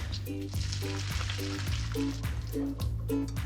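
Cooked green beans and potatoes being drained through a colander, giving a steady rushing, sizzling pour of water close up, broken by repeated rhythmic thumps and clanks and lasting a few seconds with no talking.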